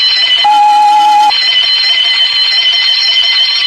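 A loud electric alarm bell rings continuously, with a brief lower tone cutting in near the start before the steady bright ringing resumes.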